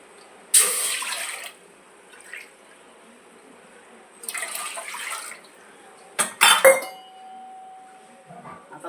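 Water pours into a pot for modak dough in three separate bursts, each a second or so long, with clinks of metal between them and quiet gaps around them.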